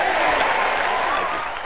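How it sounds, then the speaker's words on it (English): Dense, steady applause from a crowd, many hands clapping together in a continuous wash that fades slightly toward the end; no talking over it. "Give me a big applause every time I get one."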